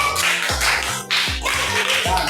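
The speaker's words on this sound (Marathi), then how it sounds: "चला वंशाचे टाळ्या वाजवायच्या" Young children clap their hands together in a classroom, giving four or five quick, sharp claps in an even rhythm, close and loud.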